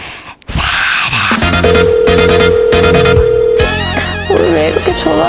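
A phone ringtone plays loudly as a repeating electronic melody with a sustained tone, starting after a brief moment of near silence.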